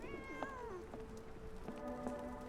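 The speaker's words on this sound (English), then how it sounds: "Oh, is there a cat?" A cat meows repeatedly in a full-motion-video mystery game, its wavering cries rising and falling over a steady background hiss, close and clear with no one speaking.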